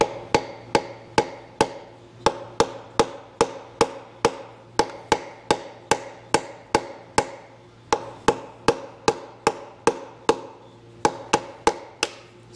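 A brass hammer taps bolts down on a Chevy 350 engine block, giving a long series of sharp, evenly spaced metallic knocks in quick rhythm with brief pauses, close and loud, with no talk.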